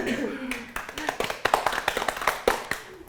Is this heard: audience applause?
yes